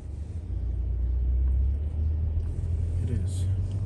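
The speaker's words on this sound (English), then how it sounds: "Is that a squatter truck?" A squatter truck with its front end raised rumbles past on a road in Hartwell, Georgia, a steady low engine drone that swells and fades as it goes by, fairly close, with no voices over it.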